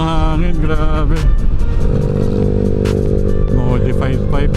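Motorcycle fitted with a modified exhaust pipe, an FK Empire 180 V2, revving nearby with loud rising and falling engine tones and clattering under speech.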